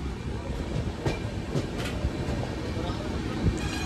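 The 12062 Jan Shatabdi Express runs on its rails during a monsoon journey near Itarsi Junction, with a steady loud rolling rumble and rhythmic wheel clicks heard from inside the moving train.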